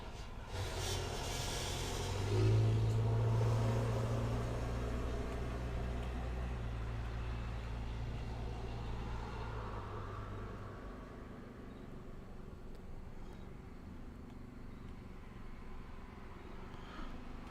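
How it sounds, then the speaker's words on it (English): Traffic on a major road heard through an open window: a low, steady rumble of passing cars swells to a broad whoosh, then fades back into a continuous distant traffic hum. "I have my window open, so if you hear cars going by"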